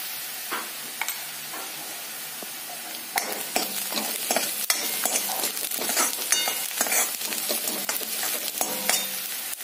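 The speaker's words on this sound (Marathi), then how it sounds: "कांदा आपला छान परतवून झाल्यानंतर याच्यामध्ये आपण थोडासा हिंग घालणार आहोत." Chopped onion sizzles and crackles in hot oil in a pan as a pinch of asafoetida goes in, with steady frying hiss and a spoon stirring and scraping throughout.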